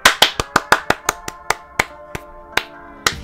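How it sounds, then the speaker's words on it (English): About a dozen hand claps land sharp and close right against a microphone at Cedar Point during the Winter Chill Out event. They start quick and even, then slow and space out irregularly over a faint steady tone. "I don't know why I'm clapping. I shouldn't be clapping into the mic like that."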